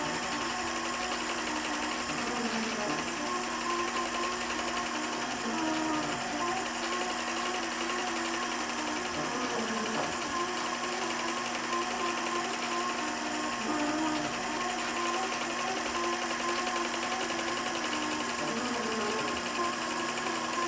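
A sewing machine stitching a quilt, running as a continuous steady mechanical hum with a faint rhythmic whir throughout, fairly quiet and unbroken for the whole stretch.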